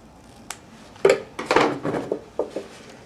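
Ribbon being trimmed with scissors during scrapbooking: a handful of sharp, close snips and clicks spaced unevenly over a few seconds, with faint handling noise between cuts and no talking.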